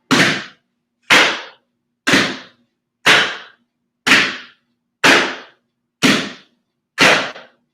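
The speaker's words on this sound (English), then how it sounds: "Bouncing on the ground." Feet bounce on the ground eight times at a steady pace of about one per second during an ankle-strength workout. Each landing is a sharp, close, fairly loud slap, with silence between them and no talk.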